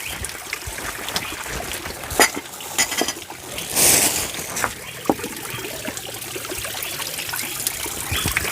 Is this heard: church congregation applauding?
no